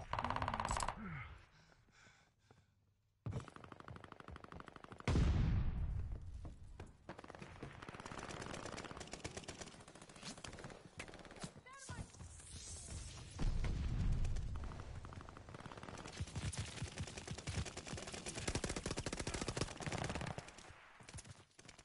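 Video game gunfire rattles in bursts and scattered shots, with a few heavier booms, loud and close, breaking off briefly before resuming in dense volleys.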